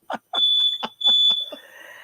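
Fire alarm going off indoors: a piercing, continuous high-pitched tone sounds close and loud, broken by short bursts of other sound around it.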